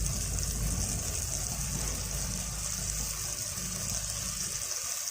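Water gushes steadily into a cooking pan of okra curry with ginger-chili paste, a continuous close rushing pour with a low rumble underneath, holding steady throughout.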